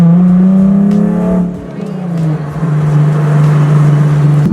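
A Nissan 370Z on air suspension pulls away nearby, its engine droning steadily, dropping briefly as it shifts, then settling into a lower, even hum as it drives off.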